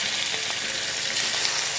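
Yellowtail fillets sizzle and fry steadily in a hot pan, a dense, even crackle of oil that holds at a constant close level throughout with no talk.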